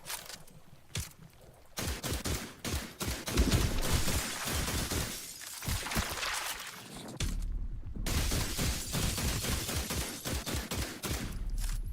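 Gunfire in The Last Caretaker video game, rapid loud bursts of shots in repeated volleys with brief gaps, dense and close throughout.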